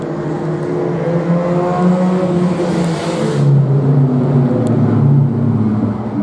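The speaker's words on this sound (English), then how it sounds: "looking to the outside of Steve Green with the 21 car as they come off in turn number 4" Race cars, including the 21 car, roar off turn four of an oval track in a claimer race, engines loud and close, with a high buzzing pass sweeping by mid-way and droning on without commentary.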